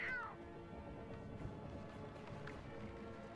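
A cartoonish cat meows near the start in the Pirate101 video game, a short rising-and-falling call that stands out clearly over steady game background sound, followed by quiet ambience with a few faint clicks.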